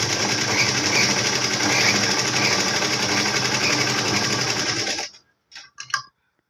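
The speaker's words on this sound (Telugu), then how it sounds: "చేసి ఈ సైడ్ నీట్గా స్టిచ్ చేసేస్తాం" A sewing machine runs steadily, stitching a seam on a two-metre length of fabric for chudidar pants, loud and close for about five seconds, then stops, leaving a few faint handling clicks.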